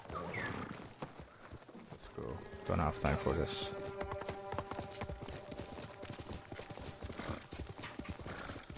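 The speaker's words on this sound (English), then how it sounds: "Let me call the horse Shadow." A horse gallops in the Ghost of Tsushima video game with rapid, continuous hoofbeats and a brief whinny, while a person talks over the ride.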